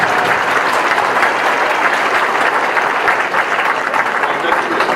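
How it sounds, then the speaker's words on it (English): Sustained audience applause fills a senior awards ceremony hall, a dense, steady wash of many hands clapping at full volume throughout. "Give them a round of applause,"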